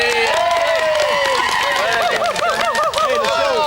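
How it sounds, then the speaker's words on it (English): A live children's TV studio audience gives a big round of applause, loud, dense clapping and excited cheering that fills about four seconds without letup. "Big round of applause for Andy."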